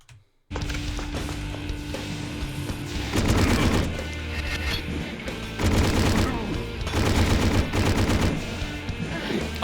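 Rapid, continuous gunfire from the video game Hedon, loud and dense in repeated bursts with heavy booming impacts, with no voices over it.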